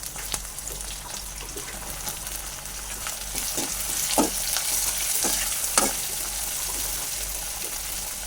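Onions frying in a pan for a curry produce a steady, close sizzle with scattered sharp crackles and stirring clinks, building slightly louder partway through, with no talking.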